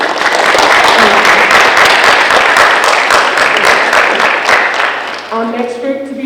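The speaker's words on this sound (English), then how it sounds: "Let's give these students a round of applause for their work." A high school honor roll assembly audience applauds loudly with dense, sustained clapping that fades out near the end as a voice begins speaking.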